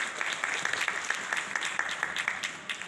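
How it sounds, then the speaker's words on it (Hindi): Audience applause breaks out at a junior quiz competition, a crowd of hands clapping in a brisk, scattered patter with sharp individual claps standing out, moderately loud and without talk. "बहुत भरपूर ताली होनी चाहिए"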